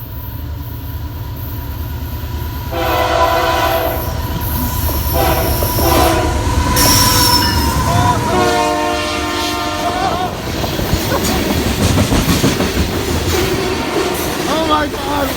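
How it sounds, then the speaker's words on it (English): A CP Rail oil train rolls past on tracks beside a nature trail, its horn blaring in long loud blasts over a continuous rumble and clatter of wheels on rail, close and powerful throughout. "and the train is coming."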